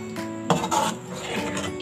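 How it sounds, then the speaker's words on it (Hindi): Chicken being stirred together with garam masala and plenty of fresh green coriander for a Kashmiri chicken dish, giving soft scraping and clinking of a utensil against the pot, close and moderately loud with no talking. "अब मैं इसको मिक्स करती हूँ"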